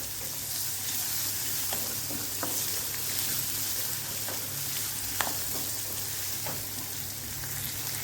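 Vegetables fry in a pan for rava upma with a close, steady sizzle and occasional small pops and stirring scrapes, and no one talks.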